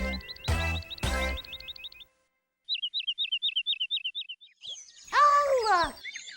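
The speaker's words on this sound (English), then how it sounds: "And I see a bird right now." Rapid repeated chirps in several quick bursts, bright and close, separated by a pause, then a swooping warble near the end.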